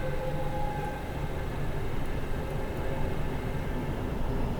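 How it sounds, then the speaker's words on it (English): An S Stock train's air compressor runs in Train Simulator 2019 as a steady, quiet mechanical hum over broadband noise, continuous and fairly distant, with no voices. "Oh, I hear compressor."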